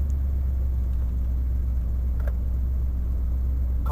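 A truck rolls slowly around a Walmart parking lot, its engine giving a steady low rumble close by with a faint brief knock or two, no talk over it.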